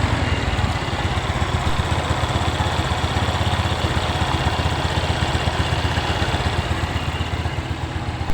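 A kick-started motorcycle engine chugs steadily at idle, a continuous close and fairly loud putter that holds the same rhythm throughout.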